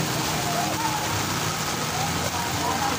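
Heavy rain pours steadily over an outdoor Marian Cathedral procession in Malolos, Philippines, a continuous dense hiss filling the background while faint voices and crowd murmur sit beneath it.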